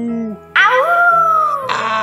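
Voices imitate wolves howling at a birthday party in a children's cartoon, a couple of rising, wavering howls with a soft tone before them.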